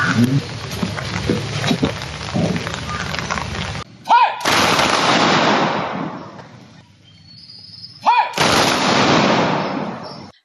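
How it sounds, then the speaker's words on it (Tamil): Police fire three loud rifle volleys as a gun salute at a memorial ceremony on the Namakkal district armed reserve grounds in Tamil Nadu, roughly four seconds apart, each crack followed by a long ringing echo. "மலர் வளையம் வைத்து துப்பாக்கி குண்டுகள் முழங்க அஞ்சலி செலுத்தினர்"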